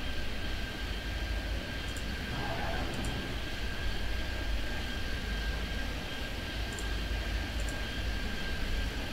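A steady, droning aircraft engine rumble from a video game airport at LAX holds throughout, with faint occasional high ticks over the continuous roar.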